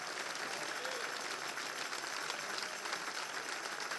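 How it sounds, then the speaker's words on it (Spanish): Church congregation applauding in a worship service at the Tabernáculo de Jesucristo in NYC, a steady dense wash of clapping that holds evenly for about four seconds with no voices on top. "¿Cuántos le dan un aplauso a Jesús en este día?"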